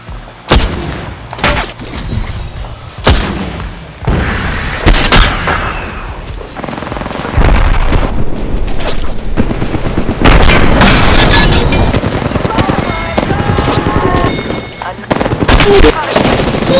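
Gunfire in the Apex Legends video game, loud sharp shots and booming reports recurring in bursts through the stretch, mixed with game sound effects and some background voice.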